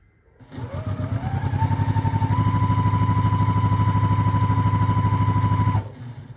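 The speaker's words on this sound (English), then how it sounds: "Take another medium square, sew to the other side of this one." A sewing machine stitching quilt squares together, its needle running in a fast steady rhythm for about five seconds before stopping, close and fairly loud, no talking.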